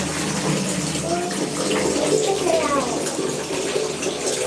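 Water running from a tap at an outdoor gathering, a continuous splashing gush that stays fairly loud and steady throughout, with faint voices in the background.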